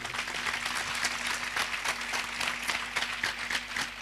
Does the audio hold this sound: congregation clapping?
yes